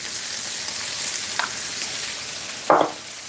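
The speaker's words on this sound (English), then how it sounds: "that boiling now" Water boiling in a pot on the stove for a noodle stir fry, a constant loud bubbling hiss broken by a brief clunk near the end.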